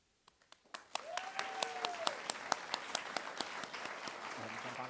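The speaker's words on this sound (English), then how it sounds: "one more time, a rapturous round of applause for the winner of this award" An audience at the AIXR awards applauds an award winner with steady, evenly spaced claps that start sparse, then build into a fuller, sustained round, with faint voices beneath.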